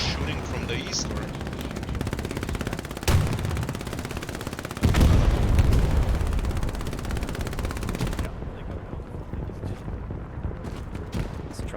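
Gunfire in Hell Let Loose, a World War II shooter, on the Stalingrad map: steady machine-gun bursts with sharp louder reports close by, continuing under a player talking.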